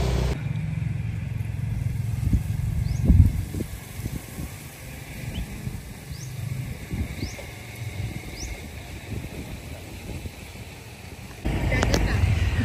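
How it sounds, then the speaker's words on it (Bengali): A motorcycle rides through a village past rice paddies near Lintic, Banayoyo, its steady low engine drone rolling on throughout, mixed with wind buffeting and occasional clatter from the road. "আমি মোটরসাইকেল করে গ্রাম ঘুরে বেড়াচ্ছি।"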